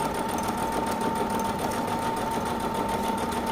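A sewing machine stitches a kameez neckline with a fast, steady mechanical whir and humming drone, running continuously and close with no speech.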